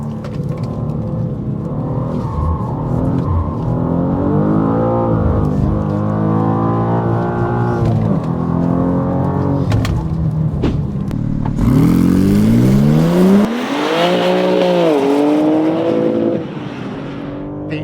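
A BMW M3 Competition running hot laps on a track, its engine loud and close as it revs up through the gears, with rising pitch sweeps, brief lifts between shifts and a sharp surge of acceleration near the end.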